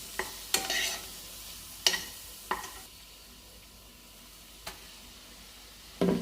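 Prawn biryani masala with fried onions being stirred in a pan, giving several separate scraping, clattering spoon strokes with quiet gaps between them and a faint sizzle underneath, close and moderately loud.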